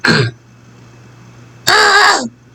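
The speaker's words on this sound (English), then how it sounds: "I had to clear my throat." A man clears his throat twice, with a short harsh rasp followed by a longer, louder gravelly clearing after a brief pause, close to the microphone, with no talk.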